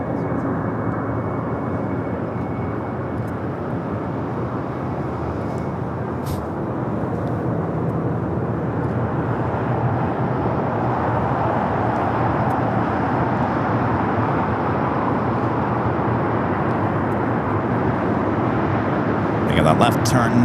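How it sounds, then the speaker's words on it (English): An EVA Air airliner starting to taxi at LAX toward runway 25 right, a loud steady jet engine roar that holds evenly throughout with a brief louder burst near the end, no talking over it. "got Eva starting her taxi. Looking like she's going to be heading down here for her south side to take off 25 right"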